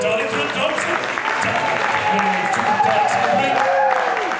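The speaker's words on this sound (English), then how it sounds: "Big round of applause for the third Dalek." An audience applauding steadily at a Dalek-themed tribute band show, with talk going on over the clapping throughout.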